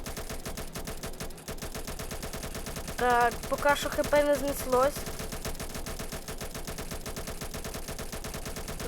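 Rapid, continuous automatic gunfire from a Roblox war game set in a Japanese-American conflict, a steady rattling stream of shots running the whole length, with a voice speaking briefly over it midway.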